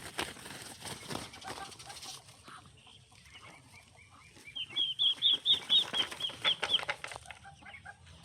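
A hen on a farm gives a run of short, bright clucks mid-clip, following faint rustling and flapping sounds; the calls are close and moderately loud.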